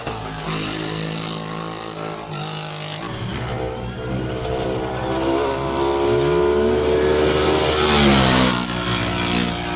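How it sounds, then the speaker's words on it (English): Single-seater race cars at a Cape Town hill climb speed event, engines revving hard and rising in pitch as they accelerate uphill, loud and close with a gear change partway through and a higher-pitched surge near the end. "Single seaters having their chance up the hill."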